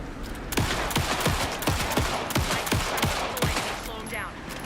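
Pistol gunshots from the video game Alan Wake 2, about nine sharp shots in an irregular quick series over a dark rumbling game backdrop, close and loud.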